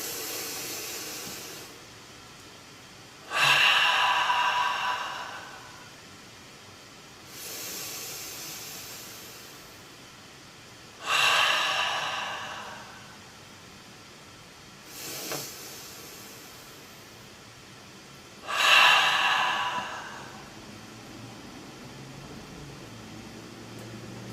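Three slow, deep breaths in a guided breathing exercise, each a loud airy hiss that rises and fades, spaced several seconds apart with near silence between them.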